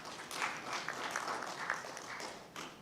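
An audience at a parliamentary plenary assembly session claps in a soft, scattered patter of many hands, fairly distant and quiet, with a few louder bursts and a brief dip before a final flurry.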